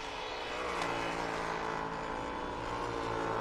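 A race car engine droning steadily as the car brakes down into a hairpin on a road course, a continuous mid-distance whine and rumble with no voices.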